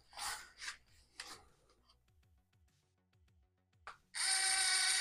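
A power drill whirs loudly through a plastic steering block of a Redcat Lowrider mini truck near the end, after a stretch of faint scraping and rubbing sounds with light ticking in between.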